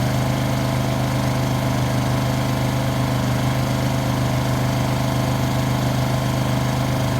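A Honda EU2200 portable inverter generator runs steadily on a propane kit, with a loud, constant engine drone and slight flutter that holds unchanged throughout, with no voices.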